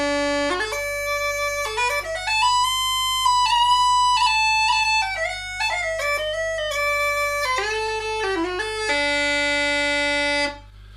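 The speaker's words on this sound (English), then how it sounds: "So that's the sound of the chanter." Uilleann pipes chanter playing a solo melody alone, with a reedy tone over a steady low drone, notes sliding and ornamented throughout, held long tones toward the end, close and loud.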